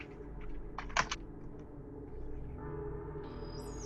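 Short burst of keystrokes on a computer keyboard, typing a couple of words into a design app, quiet and close, with no one talking.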